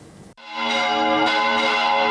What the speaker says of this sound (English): Church bells toll across Spain in honour of the victims of COVID-19.